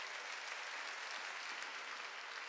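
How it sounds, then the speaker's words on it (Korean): Congregation clapping during a church sermon, a faint, even wash of many hands heard from a distance, continuous and unbroken throughout. "깨달아서 박수 치라고요"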